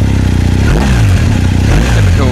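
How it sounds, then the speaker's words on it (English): A BMW R1250 GS Adventure motorcycle with a boxer engine rumbles steadily at close range, its low, loud idle rising briefly in a couple of throttle blips, with talk faintly over it. "Typical boxer engine sort of sound to it, really."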